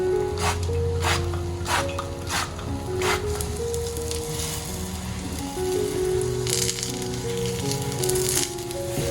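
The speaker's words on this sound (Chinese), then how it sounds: "全程使用小火慢慢煎" Banana and glutinous rice batter slowly pan-frying on low heat in an oiled flat pan, giving a soft, steady sizzle that runs throughout beneath background music.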